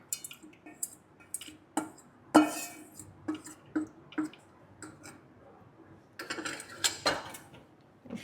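A rice mixture is stirred in a pot with the stove off, giving intermittent metallic scrapes and clinks of a spoon against the pot, with a short cluster of louder clatter near the end.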